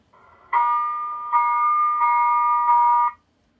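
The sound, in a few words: submarine general alarm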